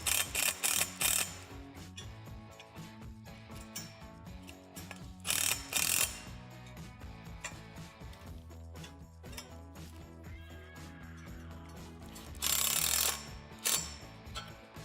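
Hardware is tightened during assembly of a LIFE TIME 1268 unit with a screw and cap nut, rendered as repeated ratcheting clicks in bursts with quieter mechanical ticking between them and no talking.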